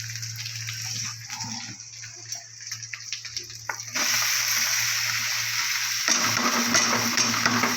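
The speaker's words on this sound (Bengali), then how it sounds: "সবগুলো শাক দিয়ে কলমি শাক দিয়ে বর্মা শাক দিয়ে ভাজা" Mixed greens, including water spinach, frying in a pan with onion, dried chili and garlic paste, giving a continuous close sizzle over a low hum that jumps to a louder, fuller hiss about halfway through.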